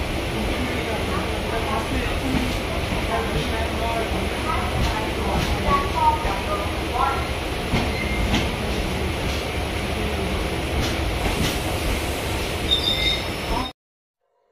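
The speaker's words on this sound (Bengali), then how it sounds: "তো ট্রেন এখন আমাদের থিবিম রেলওয়ে স্টেশন চলে এসছে।" A passenger train rolls into Thivim railway station in Goa, a steady rumbling wash of wheels and carriage noise filling the whole stretch with faint squeals, under a distant voice, before cutting off abruptly at the end.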